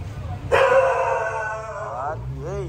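A dog in a narrow street gives a long, drawn-out whining howl at close range, followed by a brief rising yelp, over low background rumble.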